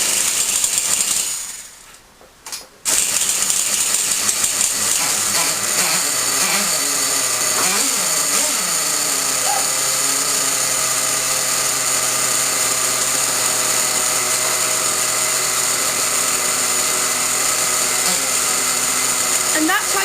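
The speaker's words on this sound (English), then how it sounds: "And that's how you start your nitro engine." Nitro RC car engine turned over by a starter, cutting out briefly, then catching and settling into a high, buzzing idle that runs steadily and loud.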